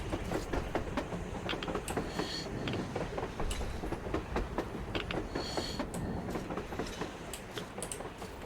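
A train moving along the surface in the video game Metro Exodus, its steady rumble and rapid clickety-clack of wheels on rails running continuously with sharp metallic clicks throughout.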